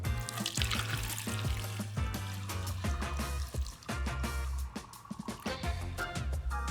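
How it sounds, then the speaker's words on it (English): Vinegar poured through a funnel into a bottle for a baking soda experiment, a continuous gurgling trickle with glugging bursts and small knocks, close and steady for several seconds. "we're going to take our vinegar and we're going to pour it in."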